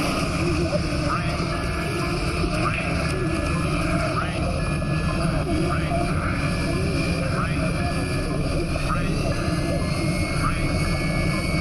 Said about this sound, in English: The ash cloud has blasted the cockpit window. We're landing blind.